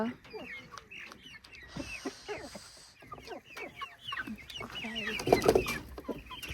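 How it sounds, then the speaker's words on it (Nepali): Chickens cluck and chatter close by in short repeated bursts, with soft background noise throughout. "हाम्रो कुखुराहरू यता छ"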